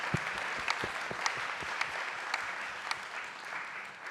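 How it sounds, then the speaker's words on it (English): Audience applause for panelists at the close of a discussion on AI, open source and 6G standardisation, steady distant clapping with a few sharper claps standing out, no speech. "how about a round of applause for the panelists?"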